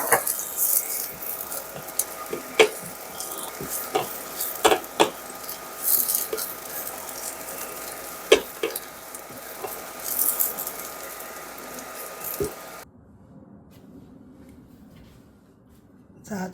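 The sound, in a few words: shiitake mushrooms stir-frying in a pan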